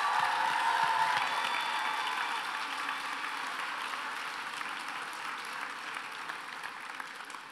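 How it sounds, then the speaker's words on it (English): The audience at a talent show gives sustained applause and a few cheers. The dense clapping starts strong, then slowly tapers while filling the hall. "a huge, huge round of applause to each and every one of them"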